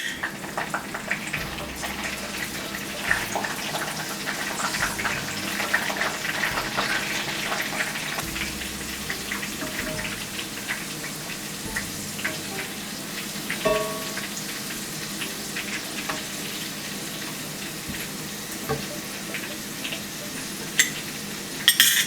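Split green chillies sizzle in hot oil for Chicken 65, a steady close crackling hiss with scattered pops and occasional stirring clinks, no talking.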